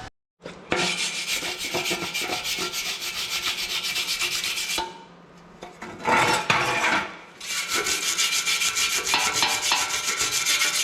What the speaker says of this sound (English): I'll wire wheel that off and take the bolt out